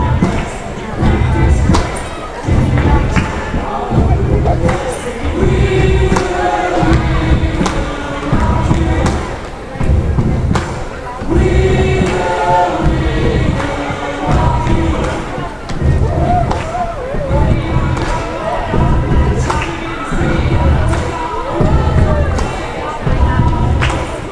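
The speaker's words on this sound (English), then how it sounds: "Trying to get a little bit of clapping and stomping going on here during the intermission." A crowd at a girls' varsity high school hockey game between the Sioux Falls Flyers and Rushmore Thunder claps and stomps in a steady, repeating rhythm through intermission, loud and echoing in the arena, with a voice talking over it.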